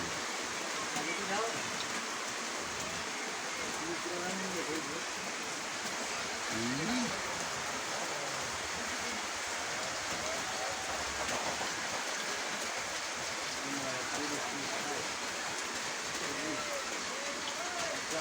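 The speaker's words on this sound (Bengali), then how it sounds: "এত বৃষ্টি নামলো তোমার চুলও বেজলো না" Heavy rain pours down in a dense, constant wash of noise that runs unbroken throughout, with faint voices and singing buried beneath it.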